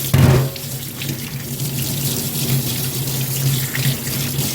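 A tap runs while brass puja vessels are washed in well water at a sink: an abrupt gush at the start, then a steady close splashing stream with slight shifts as the vessels move under it.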